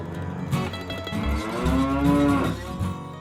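A cartoon cow moos in a long, drawn-out low call, loud and close, with a rising and falling tone and no talk over it.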